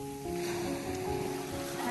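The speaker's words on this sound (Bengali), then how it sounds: "সমুদ্রের ঢেউটা কিন্তু বেশ ভালো আওয়াজ পাচ্ছ নিশ্চয়ই তোমরা।" Ocean waves on a cold San Francisco beach make a steady, soft broadband wash, fairly quiet and continuous for two seconds with a faint tonal hum underneath and no talking.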